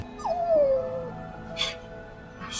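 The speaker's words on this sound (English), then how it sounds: "this dog's still at it" A stray dog whimpers with one long, high, falling whine, followed by brief yips and scuffling, close by and fairly clear.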